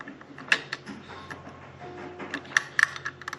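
8mm bolts being tightened with a hand tool: a few close, sharp metallic clicks and ratcheting ticks spaced irregularly over quiet background, no talking.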